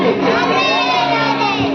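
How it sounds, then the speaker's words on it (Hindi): At a Bhagavat Katha gathering in Bhopal, a crowd chants Radhe Radhe in loud unison, many voices including children's blending in a sung, tonal roar with clapping beneath. "तो आइए सभी मीठी मीठी तालियों से एक बार प्रेम से बोलेंगे राधे राधे"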